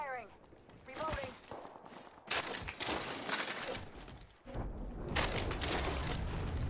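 Rapid bursts of gunfire ring out in a shooter video game, sharp cracks clustered in a few loud volleys amid game noise, with a voice talking over the action.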